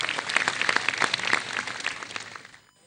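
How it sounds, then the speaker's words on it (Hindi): Applause from a stage show audience greets a guest with a brisk patter of individual claps that thin out and fade to near silence at the end. "जोरदार तालियां"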